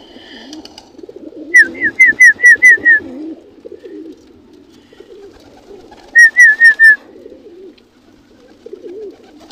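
A racing pigeon in a loft gives bursts of rapid whistled notes in two clear series of five or six, over a low, soft cooing murmur.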